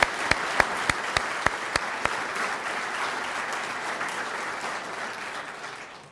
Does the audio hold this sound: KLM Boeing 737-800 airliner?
no